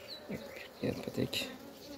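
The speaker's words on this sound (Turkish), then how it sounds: "Arı fazla saldırmıyor." Honeybees buzzing around an open hive during an inspection, close and fairly loud, with individual bees droning past in overlapping swells of whirring wingbeats.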